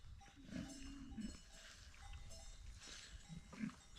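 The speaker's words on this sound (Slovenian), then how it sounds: "Glejte, prašičke lepe." Pigs on a farm grunt in a few short low bursts, a longer one near the start and another toward the end, over a faint steady background.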